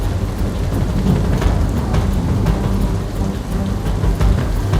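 Heavy rain pours down steadily during severe flooding in Gujarat, a dense loud hiss with deep rumbles of thunder rolling through it, no voices.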